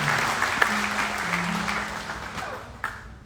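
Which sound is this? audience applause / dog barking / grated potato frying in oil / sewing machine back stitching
audience applause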